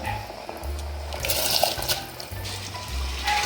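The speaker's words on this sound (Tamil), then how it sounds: "இப்போ நம்ம ஊற வச்ச அரிசியை இதில் சேர்த்துக்கலாம்." Soaked rice tipped into a pot of boiling water while cooking cauliflower dum biryani: a brief watery splash and slosh over a steady low rumble of boiling, with no talk.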